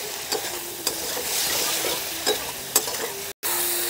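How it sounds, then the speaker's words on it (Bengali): Potatoes and beans being stir-fried with spices in a pan for a fish curry, with a steady close sizzle and a few sharp scraping stirs of the spatula, then a brief dropout near the end. "মশলার সঙ্গে আলু আর সিমটাকে ভালো করে কষিয়ে নিতে হবে।"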